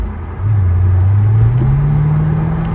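A Mercedes SL500 with a Lorinser kit and an aftermarket exhaust accelerates, its deep engine note swelling and climbing steadily in pitch, loud and close with no talk.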